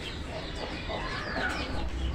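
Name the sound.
chicken clucking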